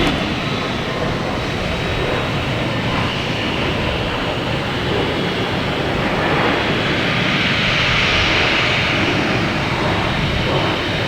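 Delta airliner on flight 445 to Salt Lake City at Boston Logan Airport: a steady, loud broadband jet roar that holds throughout and swells slightly near the end.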